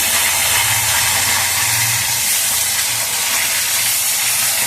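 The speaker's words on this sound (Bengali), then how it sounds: "আমার ইলিশ মাছগুলো এক পিঠ ভাজা হয়ে গেছে। আমি একসঙ্গে সমস্ত মাছগুলো কি করে উল্টিয়ে দিলাম।" Hilsa fish fry in hot oil with eggplant in a pan, a loud, steady broadband sizzle and hiss filling the whole stretch, with a faint low hum underneath and no talking.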